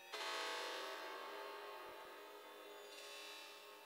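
A breakbeat sample time-stretched with added reverb: a washy, smeared sustained texture that swells in quickly, holds with a soft mid-clip dip and a faint renewed shimmer near the end, fairly quiet overall.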